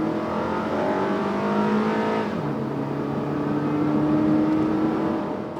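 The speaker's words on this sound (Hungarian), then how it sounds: "oda lehet neki lépni, és hajlani is, hogy vált a vezérlés, és megindul az autó egész tűrhetően." A JDM Honda Odyssey minivan with a 2.4-litre four-cylinder VTEC engine accelerating hard, the engine note climbing, dropping briefly at a shift around the midpoint, then rising again, loud and close with no talk.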